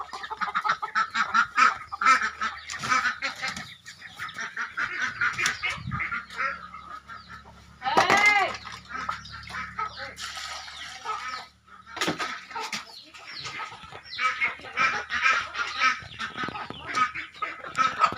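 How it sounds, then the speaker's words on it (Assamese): A flock of ducks and chickens fed grain fills the air with loud, continuous quacking, honking and clucking up close, while the birds jostle and call over one another. "এইফালে কুকুৰা ধান খাই আছে আৰু এইফালে এতিয়া হাঁহক দানা দিম"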